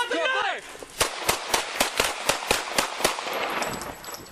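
A rapid volley of about nine sharp gunshots fired by police during a knife confrontation, loud and evenly spaced, following a brief shout.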